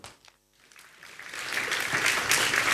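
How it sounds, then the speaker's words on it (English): Conference audience applause builds from near silence after a brief opening sound, swelling into broad sustained clapping that grows louder toward the end. "So give a big round of applause to Lance and Raf."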